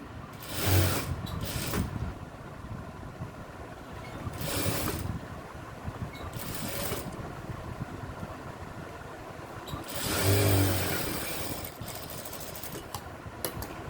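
A sewing machine stitches piping onto a blouse neckline, running in a steady mechanical whirr with several louder surges, close and with no voices.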